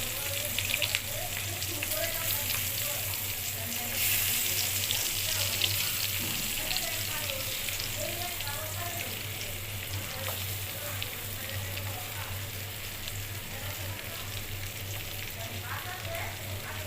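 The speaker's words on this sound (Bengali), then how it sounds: "এবার চুলায় ভেজে নিব।" Tengra fish sizzling steadily in a pan of hot oil on a stove, with a continuous close crackling hiss and low background hum.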